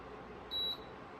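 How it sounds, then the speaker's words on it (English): A single short electronic beep from an appliance sounds once, clear and high-pitched, over a quiet room background while brewing kombucha. "after I turn the beeping off"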